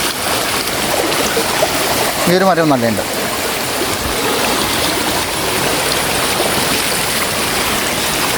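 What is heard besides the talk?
water flowing through a stream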